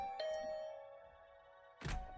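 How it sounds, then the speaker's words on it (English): A doorbell chime in the Last Defense Academy game rings as a single sustained electronic ding that slowly fades, followed by a dull thunk. "I just returned to my room when the doorbell rang."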